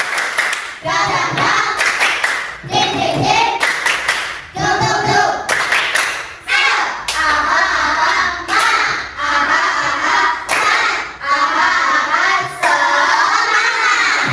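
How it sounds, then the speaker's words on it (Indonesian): A school class performs a rhythmic clapping chant, children's voices chanting in unison, punctuated by sharp, loud group claps in a repeated pattern close by. "Ya, tepuk semangat versi baru."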